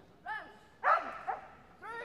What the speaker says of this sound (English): There you go, barking all the way into those weaves